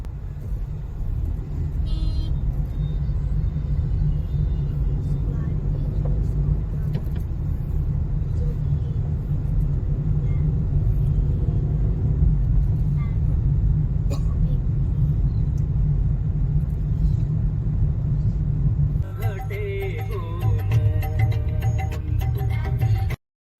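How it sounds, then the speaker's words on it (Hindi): Road traffic on arrival in Haridwar, a steady rumble of cars and other vehicles passing close by, continuous throughout with a rise in clatter near the end, with a person talking over it. "हरिद्वार पहुंचते ही हो गई है ट्रैफिक की बरसात"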